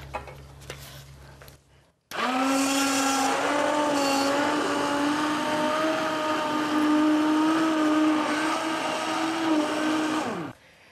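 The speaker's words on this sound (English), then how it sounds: "Now we're just going to get the soup and blend it." A blender purees pumpkin soup after a brief quiet start, then runs as one loud, steady whirring motor drone for about eight seconds before cutting off.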